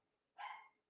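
A single bark from a dog named Lainey, one short, clear and fairly close.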